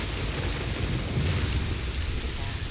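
Steady rain with a low thunder rumble in the video game Red Dead Redemption 2, a dense continuous wash filling the whole stretch at an even level, with no voices over it.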